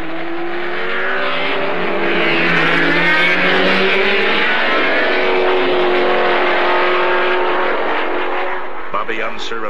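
Race cars roar around the track at the 1973 Indianapolis 500 as the pace car pulls off, a loud, dense wall of engines with overlapping high-pitched sweeps.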